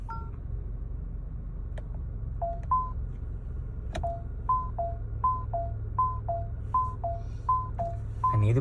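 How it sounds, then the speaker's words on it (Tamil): Second turn indicator sound option in a Mahindra car: a steady, regular run of two-note electronic chimes alternating high and low, repeating about twice a second over a low cabin hum, clear and without talk. "அண்ட் இது பார்த்தோம் அப்படின்னா செகண்ட் இண்டிகேட்டரோட சவுண்ட்"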